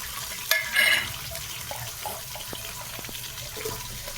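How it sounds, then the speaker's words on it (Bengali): Onions go into a pan for prawn chowmein, landing with a sharp burst of sizzle and clatter, then fading to a steady low frying hiss with light scraping. "এখন হচ্ছে আমরা পেঁয়াজ দিয়ে দিলাম"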